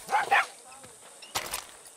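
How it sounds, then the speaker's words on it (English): A dog in the video game Far Cry 6 gives two quick barks close by, followed by a rougher burst a moment later, heard over faint game ambience. "Vamos a acariciar al perro y lo dejamos."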